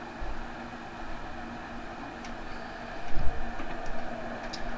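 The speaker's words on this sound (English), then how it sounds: "More Kuju sounds in this train." A Class 158 diesel train in Train Simulator 2018 gives a steady droning hum with faint ticks and low rumbling thumps, swelling slightly toward the end.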